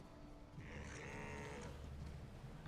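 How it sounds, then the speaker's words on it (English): A goat man creature in the Diablo video game lets out a long, bleating, cow-like groan that swells and holds for over a second before fading, loud and alone over a low rumbling game backdrop. "I don't like that he does that noise, though, but I guess that comes with being a goat man."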